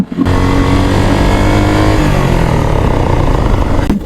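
A motorcycle engine drones loud and close for the whole ride as it pulls away, its pitch rising and falling slightly with the revs, with no talk over it.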